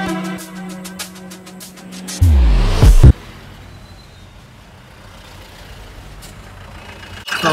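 Heavy road traffic near Ghum station on the way to Pashupati Market, with a loud truck or bus engine passing close by and a burst of low rumble, then a steady wash of vehicle noise.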